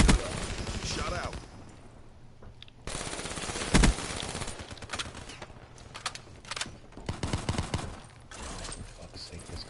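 Video game gunfire crackles in loud automatic bursts and single shots, close and harsh, mixed with other game effects while a player talks over it.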